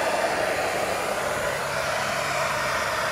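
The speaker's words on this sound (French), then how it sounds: "On va mettre un sèche-cheveux en plus dessus." A 2000-watt hair dryer, running on a portable power station battery, blows at full power with a steady, loud, continuous whooshing whir that holds unchanged throughout, with no talking.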